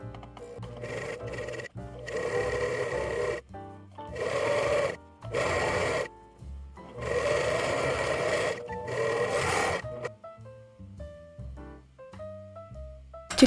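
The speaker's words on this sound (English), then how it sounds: "if you want to add the overlock stitch on top of all this, you can turn everything out and then stitch along this seam line" A sewing machine runs an overlock seam on knit fabric in short bursts of steady stitching separated by pauses, fairly close and moderately loud, with no talking.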